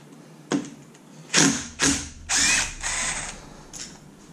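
A power tool drives out T40 screws from the front differential of a 2005 Arctic Cat, several short loud whirring bursts of varying length separated by pauses, close by, with no talk.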